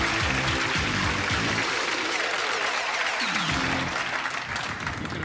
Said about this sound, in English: You can afford to be charitable with the applause